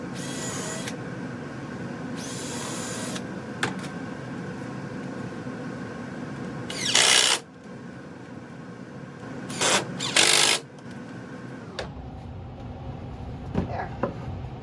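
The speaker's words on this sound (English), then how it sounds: "Now I'm going to put 2 screws on the bottom like I did on the other side." Screws driven into the bottom of a wooden lamp holder with a power tool, short whirring bursts separated by steady background hum, close and moderately loud.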